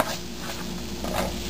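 Coriander powder and red chili powder being stirred together in a pan for chicken kofta curry, soft scraping and light sizzling up close.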